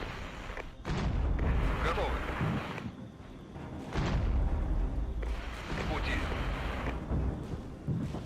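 Tanks and artillery clash in a Cold War simulator video game, with heavy booms and rolling explosive rumbles repeating every few seconds over a constant dense battle roar.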